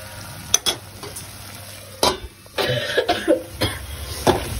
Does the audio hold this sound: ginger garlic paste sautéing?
yes